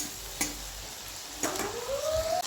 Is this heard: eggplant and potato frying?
yes